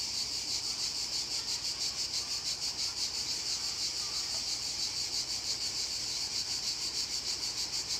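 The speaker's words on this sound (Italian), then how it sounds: "Guardate lo sciame che si alza quando viene spazzolato il telaino." Honeybee swarm lifting off a hive frame as it is brushed during honey harvesting at Parco Giardino Sigurtà, a steady high-pitched buzzing drone with a gentle pulsing rhythm, moderately faint and continuous.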